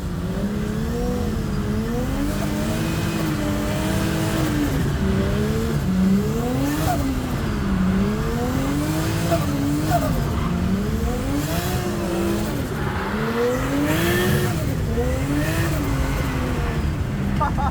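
Turbocharged Nissan Skyline drifting, its engine rising and falling in steady revving sweeps while the tires squeal loudly and continuously throughout, close and sustained.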